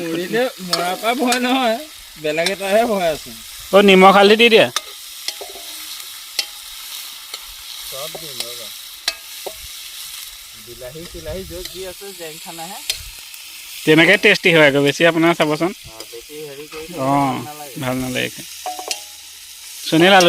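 Green chillies pop and sizzle in a hot frying pan, a steady hiss running through the whole stretch while several voices talk loudly over it.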